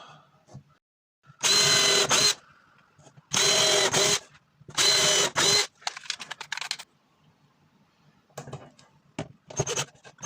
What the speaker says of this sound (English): Just drill pilot holes.